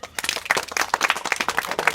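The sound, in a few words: group of children clapping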